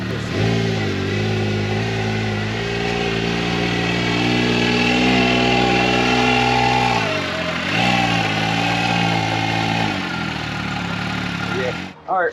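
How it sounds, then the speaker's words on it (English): A 2022 Can-Am Maverick side-by-side runs its engine as it creeps forward into a parking spot, a loud, close, steady mid-pitched hum with a brief dip in pitch midway, then cutting off at the end. "about to move the vehicle up into the parking spot"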